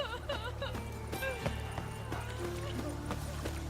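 Horse hooves clip-clop at a steady walk in The Witcher 3, under game ambience and voices talking over them.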